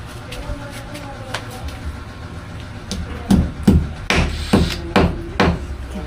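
A hammer strikes repeatedly at close range: a few lighter taps at first, then a series of heavy, sharp blows in an uneven rhythm, with faint voices in the background.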